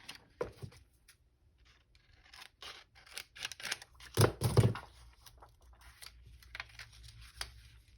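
Scissors snip through paper for a junk journal, a quiet scattered crunching that builds to a brief, louder burst of cutting near the middle, with small rustles on either side.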